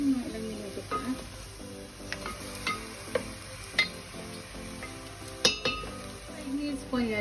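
Chicken browning in a pan for chicken adobo sa gata, a soft continuous sizzle broken by repeated clinks and scrapes of a utensil stirring against the pan.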